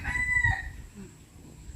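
A rooster at a garden home in Chanthaburi, Thailand crows close by in a brief, bright call that fades after about half a second, leaving quiet outdoor ambience.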